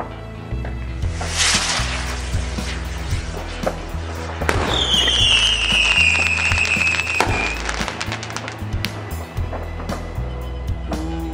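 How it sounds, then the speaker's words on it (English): Bonfire Night fireworks go off in the distance, a run of sharp pops and bangs with whistling, crackling bursts in the middle, all fairly loud and steady over a low background rumble. "But here's some real fireworks."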